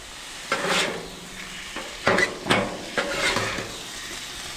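Ground deer meat fries in a pan with a low sizzle. A utensil scrapes and stirs it in several distinct strokes spread across the clip.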